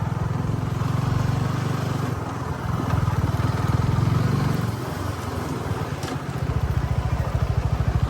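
A motorcycle engine runs close by with a steady throbbing rumble that swells and eases, then settles into an even, pulsing idle.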